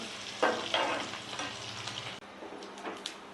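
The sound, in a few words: tempering frying for cucumber karonda pickle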